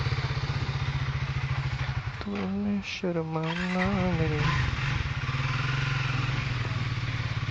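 A Triumph Thruxton 400 motorcycle engine drones steadily and close during a ride, a low, even hum throughout. A man briefly sings a few words over it.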